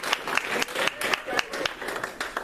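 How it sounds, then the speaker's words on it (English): An audience at a magic show claps for a volunteer, a steady run of sharp, fairly close hand claps with an uneven rhythm, no talk over it. "Everybody clap for Skylar."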